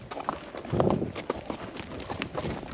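Horse hooves clip-clop at an easy walk down a slope toward the sea, a soft irregular patter of steps close by over outdoor background noise.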